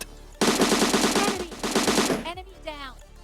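Automatic gunfire in the Free Fire video game, a loud close burst of rapid shots lasting over a second, a short pause, then another burst that cuts off into brief trailing game sounds.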